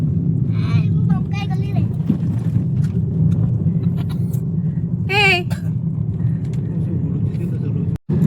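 A car engine runs with a steady low rumble throughout a family picnic outing in Ganjam, while several people talk over it close by.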